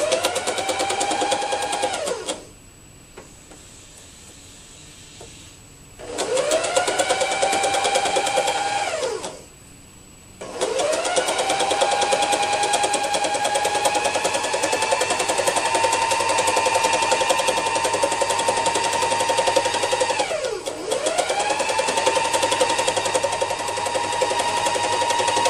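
Felting machine running over layered fabric for fiber art quilting, a steady high mechanical whir with fast needle chatter that pauses twice, ramping up and down between runs.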